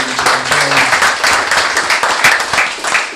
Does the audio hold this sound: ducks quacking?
no